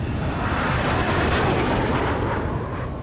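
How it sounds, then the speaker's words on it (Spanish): F-16 fighter jets flying, heard as a loud continuous jet roar that swells slightly in the middle and then fades a little toward the end. "Llama a dos cazas F-16 que están patrullando en zonas cercanas."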